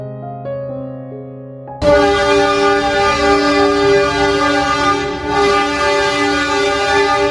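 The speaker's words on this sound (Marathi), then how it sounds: "पुन्हा नेरळ स्टेशनवरनं निघाली आहे ट्रेन" A passenger train on the Kalyan to Pune route pulls out of Neral Junction. A few soft tones give way to a long, loud horn blast that holds steady for several seconds over the rumble of the moving train.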